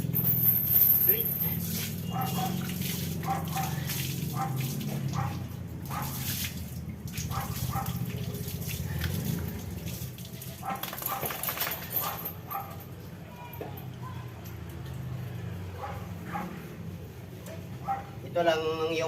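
A pet dog whimpers and yips while being bathed with water, its cries mixed with the splash of water. A person talks over much of it.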